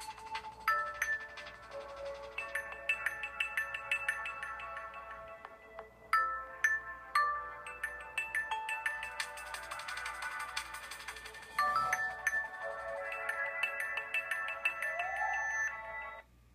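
A Microsoft ringtone on a Windows 10 Mobile phone, a remix-style melodic tune with bright repeating synth notes and chords playing clearly for several phrases, no voices.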